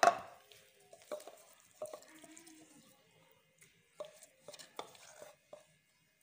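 Ginger for pumpkin curry being pounded with a pestle in a home kitchen, heard as a loud opening strike followed by scattered knocks and thuds at an uneven rhythm, with no talking.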